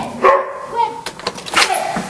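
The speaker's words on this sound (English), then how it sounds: "That's a lot of dogs." Several dogs barking and yipping in short bursts, close and fairly loud, with a person's voice mixed in among the barks.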